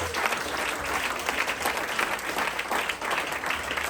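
A church congregation claps together during a worship service, a steady, fairly loud wash of many hands sustained for several seconds without speech.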